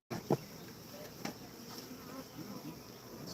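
A steady, faint insect drone of bees buzzing continues through the whole stretch, with a couple of brief louder taps or bumps near the start, and no talking.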